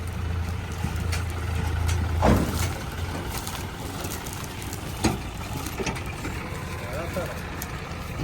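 A low tractor engine rumble drones for the first few seconds, then fades into an outdoor farm background as people talk over it.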